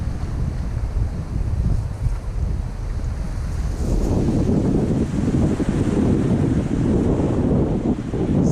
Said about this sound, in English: Cool cold wind, stiff wind starting to pick up.